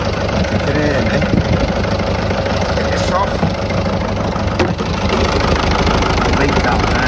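A Citroen 1.6 HDi diesel engine with a faulty, leaking fuel injector idles roughly with an uneven knock, close and steady, while someone speaks briefly over it.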